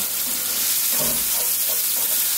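Curry chicken with ground roasted cumin sizzling steadily in a pot, a loud dense frying hiss with a few soft stirring sounds in the middle.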